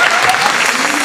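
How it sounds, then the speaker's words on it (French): A loud, dense burst of audience applause at the start of an evening show, close and continuous over its short length, with crowd noise mixed in. "On l'applaudit très fort."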